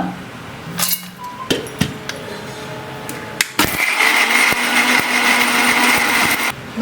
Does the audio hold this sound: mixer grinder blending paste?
yes